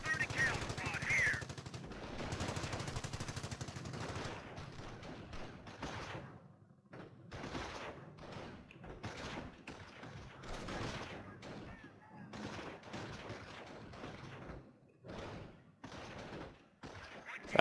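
Quiet, distant bursts of machine gun fire from an MG crew in the Company of Heroes game on the Wrecked Train map, rapid repeated rattles with scattered thuds and explosions in between.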